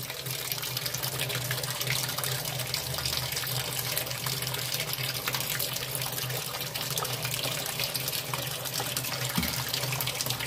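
A tap on a Sanyo top-loading washing machine gives a weak, steady trickle of water, a soft continuous hiss that runs unchanged for about ten seconds at low level.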